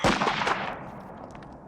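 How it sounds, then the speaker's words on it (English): A single gunshot from the 1990 film Total Recall bangs out loud and sharp at the start, then fades into a ringing, reverberant tail with faint after-sounds. "It's another bullet to the head."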